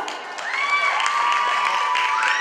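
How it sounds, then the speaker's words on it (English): A live audience at an awards event applauds and cheers together, a dense, steady wash of clapping with whistles and shouts on top, sustained and loud for the whole stretch. "please give Saras a big round of applause"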